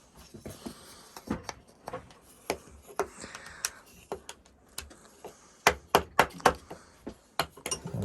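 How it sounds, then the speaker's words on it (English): A hammer knocks a wooden dovetail joint together with a string of sharp, irregular taps and thuds, close by and fairly quiet, clustering into quicker blows toward the end. "knock that in, hammer that in"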